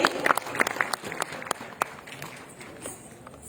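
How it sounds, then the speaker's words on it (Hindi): Auditorium audience applauding to welcome a Bharatanatyam dancer at a youth programme in Reasi, with scattered sharp claps that thin out and fade over a few seconds. "चाहूंगी जोरदार तालियों से आप इनका स्वागत करें"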